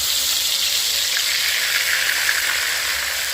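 A spice paste drops into very hot oil and fries with a loud, dense, continuous sizzle and bubbling hiss that holds steady up close, with no voices.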